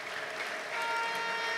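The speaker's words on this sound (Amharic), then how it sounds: "ለእግዚአብሔር ለአምላካችን ከፍ ያለ እልልታና ጭብጨባ አምጡ።" A church congregation claps and ululates in praise, a steady wash of applause with a high trilling cry rising above it partway through.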